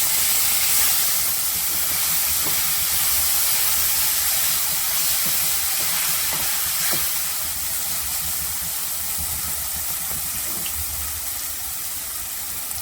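Tomato, coriander and mint fry lightly in ghee with a steady, close hiss and sizzle, soft crackles scattered through it, running continuously without talk.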